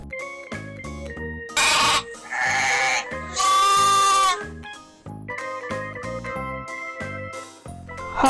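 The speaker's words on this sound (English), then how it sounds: "Sheep. Sheep young ones is called a lamb." Sheep bleat repeatedly, loud and close, with several long wavering cries over a background of tinkling music.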